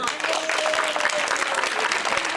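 A church congregation claps and cheers together, a dense, steady wash of applause held at full strength for the whole stretch.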